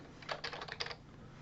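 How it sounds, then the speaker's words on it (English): Keys clatter on a computer keyboard as payment details are entered, a quick burst of about a dozen close, crisp taps over roughly a second, then quiet room tone. "now I have to type in payment stuff"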